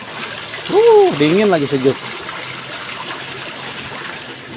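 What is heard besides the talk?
water flowing from a spout for washing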